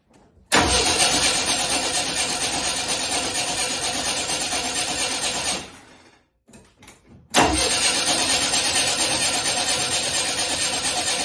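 A shop truck running on a little old gasoline cranks and catches, then roars loudly and close for about five seconds. It cuts out, falls silent briefly, sputters, and fires up again into a loud, steady run.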